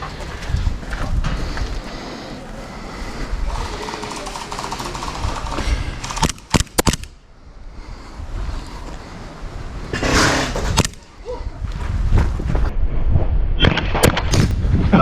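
A Zev Glock 34 gas blowback gel blaster pistol fires a few sharp cracks amid busy outdoor noise, with a couple of distinct loud pops standing out, and people talking nearby.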